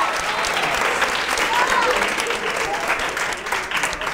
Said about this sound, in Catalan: Aplaudiments, sisplau, que són molts punts